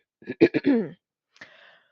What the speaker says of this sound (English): You'll note that I clear my throat a lot.